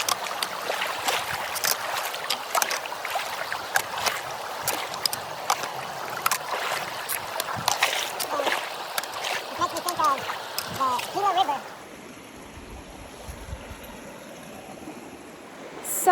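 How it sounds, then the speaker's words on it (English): Hiker's boots splash and slosh through a stream crossing on the Ouachita Trail, a steady run of wet steps and churning water that stops abruptly, leaving faint quiet outdoor ambience. "So that was the last water crossing."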